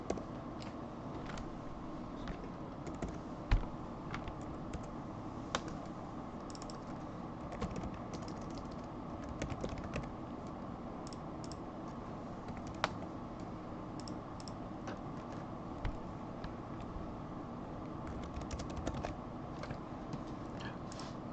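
Quiet computer keyboard typing for data entry, a continuous run of light key clicks with occasional sharper taps, close and faint against a steady low room hum.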